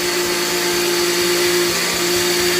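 A kitchen blender purees food in a loud, steady, high-pitched whir that holds constant throughout, with no talking.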